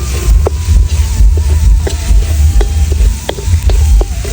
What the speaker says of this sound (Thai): อันนี้ผมก็จะ ทอดหอมเทียมครับ